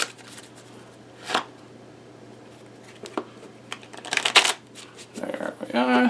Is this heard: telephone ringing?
no